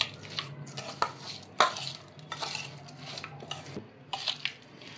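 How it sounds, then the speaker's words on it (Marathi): Spoon stirring a cucumber and poha mixture with tempering in a bowl: a close series of soft scraping strokes punctuated by sharp clinks of metal against the bowl's rim, uneven and fairly quiet, with no voices. "आता हे मिश्रण आहे ना सगळं आधी मिक्स करून घेऊयात आपण।"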